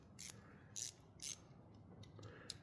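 A mini 1/4 inch ratchet clicks in several short, crisp bursts of rapid ratcheting, close up and fairly quiet, with no talking.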